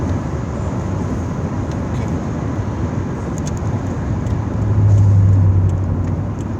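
A car cruises along a highway near Austin, a loud continuous road and engine rumble heard from inside, swelling briefly as a heavier drone passes partway through, with no voices.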